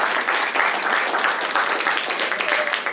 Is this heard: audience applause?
yes